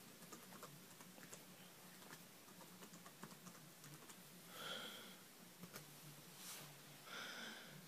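Faint keystrokes tap out a password on a computer keyboard, a quick irregular patter of light clicks with a few soft sniffs in between.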